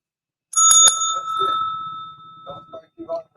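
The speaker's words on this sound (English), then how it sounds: "Every time you hear that bell, we're having giveaways." A bicycle bell rings with a couple of quick metallic dings that leave a long, bright ringing tail, loud and close, followed by a brief spoken voice.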